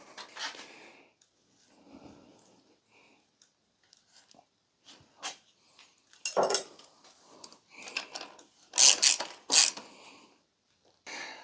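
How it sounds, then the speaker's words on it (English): A fork cap being screwed back into a Yamaha Tenere 700 front suspension fork: sparse, quiet metallic clicks and handling taps, growing louder near the end, with no talking. "screw the cap back in"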